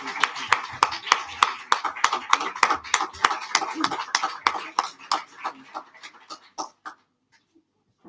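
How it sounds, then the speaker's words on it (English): A round of applause at a Nelson Mandela quote book launch, steady rhythmic clapping that thins and stops near the end, with a voice heard over the claps. "Another round of applause, ladies and gentlemen"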